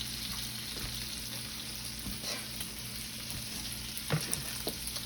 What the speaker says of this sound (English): We have the bacon going, and we have the grits going.